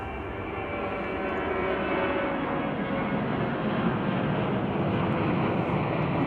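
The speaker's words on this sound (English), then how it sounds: "Another flight that just took off over there" An aircraft takes off at Chicago O'Hare, its engines producing a sustained, heavy roar that builds slightly and holds steady at a moderate distance, with no voices on top.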